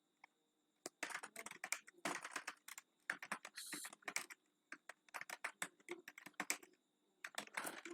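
Rapid bursts of computer keyboard typing while HTML code is entered, the clicks coming in quick irregular runs separated by short pauses, close and fairly quiet.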